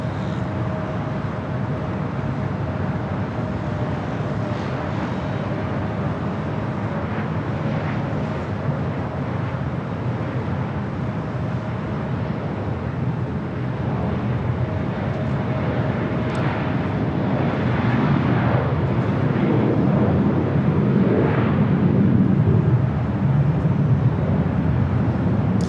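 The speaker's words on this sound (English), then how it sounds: "There's that Air Canada all-black A320 diverting back here to LAX, looking like it will be heading to the south side." An all-black Air Canada Airbus A320 airliner passes near LAX with a continuous jet roar that slowly builds louder toward the end, heard from a moderate distance with a faint steady tone underneath.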